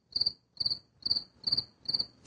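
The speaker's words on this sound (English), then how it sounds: "That's a cricket." Five evenly spaced cricket chirps ring out in a steady rhythm, each a short trilled burst, clear and fairly close, with no other sound around them.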